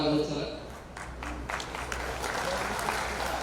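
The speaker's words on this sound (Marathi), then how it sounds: "त्यामुळे आपण भरपूर टाळ्या वाजवत चला." An audience at a public celebration event clapping, a burst of scattered, uneven applause that continues steadily under a speaker's voice talking over it.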